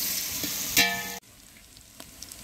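Onions fry in a pan for a village-style tomato bath, a bright steady sizzle that swells with one clattering stir and then cuts out abruptly, leaving only faint background noise.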